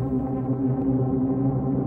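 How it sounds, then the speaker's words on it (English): A sustained, steady tone processed with a reverb effect, its low hum smeared and washed out, playing alone at an even level with no talking. "Let's add some reverb."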